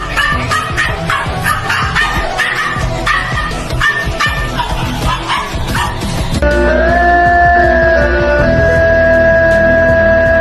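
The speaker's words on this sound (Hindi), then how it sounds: "देख रहे हो जोर जोर से कैसे भौंककर इस पहलवान को खुलेआम चुनौती दे रहा है" A small dog barks loudly in quick, repeated yips over busy background sound, facing up to a much larger dog, then the barking gives way to a steadier tonal noise that persists.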